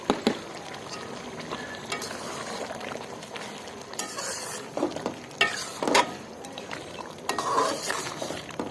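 Mutton karahi fries in ghee in a wok-style karahi, a steady sizzle under repeated scraping stirs of a metal spoon against the pan, close and continuous.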